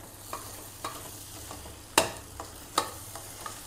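Grated coconut and jaggery are stirred together in a pan, with a few sharp scraping clacks of the spoon spaced irregularly over a soft background sizzle, near and fairly quiet.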